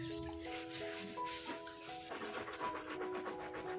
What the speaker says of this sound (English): here I am, washing utensils and scrubbing sufurias